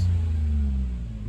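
A 1996 Suzuki Jimny's K6A turbo engine holds a loud, deep, steady revving hum at raised rpm, close by with no voices.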